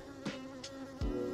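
A honey bee buzzing right against a microphone beside a packed beehive during the sourwood nectar flow in western North Carolina, a close, steady drone with a few sharp bumps as it hits the mic.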